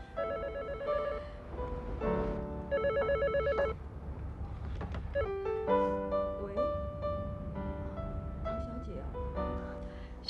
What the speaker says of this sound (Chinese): 秀兰，我打了好几个电话到你们家里，怎么都没有人接电话呀？